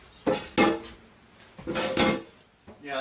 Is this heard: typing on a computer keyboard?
no